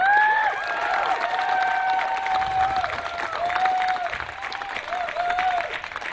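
An audience at a debate claps loudly and steadily, with a few whoops and cheers rising over the dense applause.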